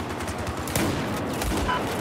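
Gunfire in a shooting video game, a dense continuous burst of rapid shots with no pause.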